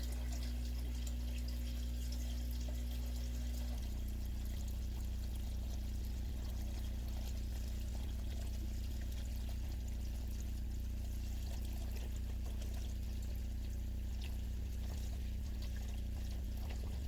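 Water pours steadily into a 46 gallon bowfront aquarium during a water change, a constant low, rushing flow that keeps going the whole time, with a faint hum underneath that changes slightly early on.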